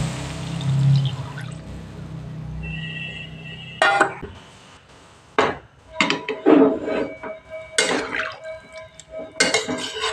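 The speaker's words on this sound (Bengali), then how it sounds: "এবার এর মধ্যে আমি পরিমাণ মতো জল অ্যাড করে দিচ্ছি।" Water poured into cooked, fried masala in a pan for a Bengali rui fish curry, with a steady pour and trickle followed by scattered clinks and knocks of utensils against the pot.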